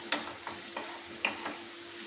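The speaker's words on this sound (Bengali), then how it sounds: "কষাবো, যতটা পারি কষিয়ে নেবো এটা।" Chicken being stir-fried kosha-style in a kadai: a steady sizzle with repeated scraping stir strokes, about five clear pushes spaced roughly a quarter to half second apart, close and moderately loud, no voices.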